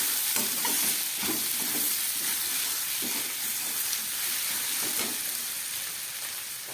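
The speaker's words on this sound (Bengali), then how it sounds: "আলু আর পেঁয়াজটাকে অনেকক্ষণ ধরে ভেজে নিলাম" Potatoes and onions fry in a pan with a continuous, fairly loud sizzle and bursts of crackle, while a spatula stirs now and then.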